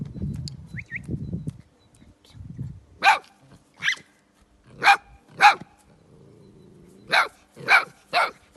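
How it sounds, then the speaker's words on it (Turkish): Small dogs bark in sharp bursts, a pair and then a close run of three, loud and near, after some low indistinct voices and rustling at the start. "Köpek."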